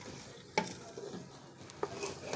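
A spoon stirs food simmering in oil, giving soft scraping strokes with a couple of sharper knocks over a low, steady sizzle nearby.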